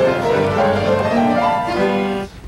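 High-pitched notes from a real piano rise and fall in a short run over a sustained organ tone, loud and close.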